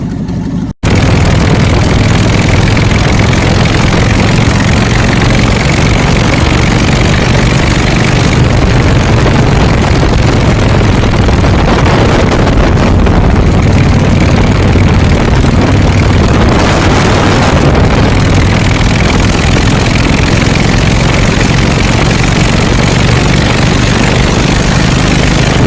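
An old engine with a two-barrel carburetor idles at close range, a loud, continuous low rumble that stays steady throughout with slight shifts in tone.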